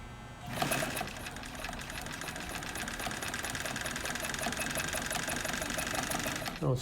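A 1963 Kenmore 158.904 sewing machine runs a straight lock stitch, a steady fast mechanical whirr with rapid needle clatter that starts abruptly, holds for about six seconds and then stops, close up.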